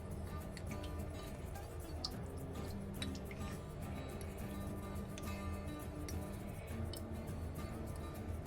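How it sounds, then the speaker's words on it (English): Water drips and trickles across a Japanese natural honing stone during straight razor honing, with faint wet ticks and clinks spread through a steady low hum. "This is water."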